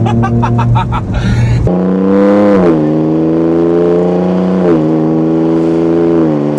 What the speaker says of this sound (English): Under the hood of the Ford Ranger Raptor V6 is a 3-liter twin-turbo V6 engine